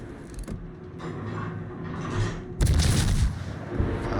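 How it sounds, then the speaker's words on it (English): Naval guns firing on a light cruiser in World of Warships, an open-water battle, with a deep heavy boom about midway that rumbles on under steady engine and water ambience, loud and close. "Popping off a few shots at the battleship while I can."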